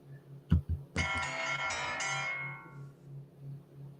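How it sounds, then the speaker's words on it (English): A phone ringtone from an incoming call sounds close and clear, a bright melodic tone sustained for about a second and a half and fading out, preceded by a couple of soft knocks, with a low hum underneath. "You got a phone call."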